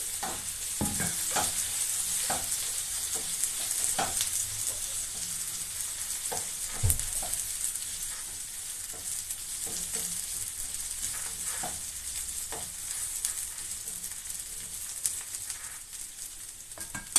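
Gizzards frying in a pan with onions give a steady, moderate sizzle with intermittent clinks and scrapes from stirring, continuing throughout without voices.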